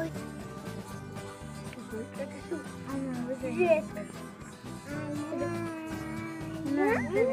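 A cat meowing at home, several drawn-out rising calls heard near and clearly, mixed in with people talking and background household sound.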